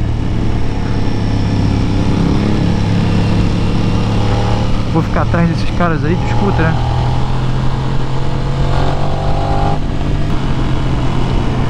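A 2023 Aprilia RS 660 sport motorcycle engine runs steadily while being ridden, a continuous droning hum with a brief rising rev in the middle, heard under someone talking close up throughout.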